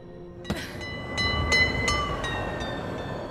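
Train in the Mirror's Edge Catalyst video game, a steady rumbling rail ride with sharp metallic clanks and ringing squeals recurring every half second or so, fairly close and continuous.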